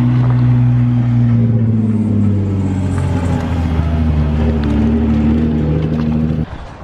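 A car engine revs and rumbles loudly through an exhaust, a deep steady drone with rising pitch that holds close up and then cuts off near the end.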